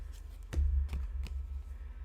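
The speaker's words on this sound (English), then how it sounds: "I'm like shuffling this deck" A deck of tarot cards is shuffled during a live tarot reading, making a few crisp snapping riffles over a soft ongoing rustle. The shuffling sounds close and fairly loud, and no one speaks.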